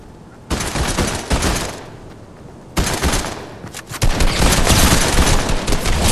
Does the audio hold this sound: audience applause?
no